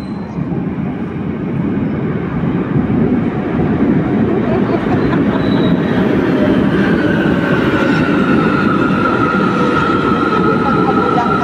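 A train passes somewhere in Cairo, a steady loud rumble of wheels and carriages held for the whole stretch with a faint high whine rising near the end.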